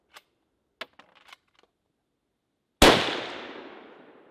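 A single loud Italian Carcano carbine rifle shot at an outdoor shooting range, preceded by a few faint mechanical clicks and followed by a long, fading echo, with no talking.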